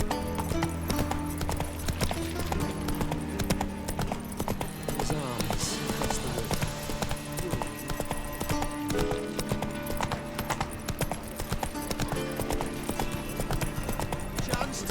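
Roach the horse gallops in The Witcher 3 on Skellige, hooves clip-clopping in a steady, continuous rhythm over a dense bed of game music and ambience, with an occasional whinny.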